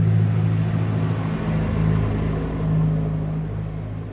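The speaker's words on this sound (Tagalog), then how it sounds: "Ingay ng motor na yun." A noisy motorbike engine drones nearby, a steady low rumble with a humming tone that swells slightly midway and fades a little as it passes, with no talk over it.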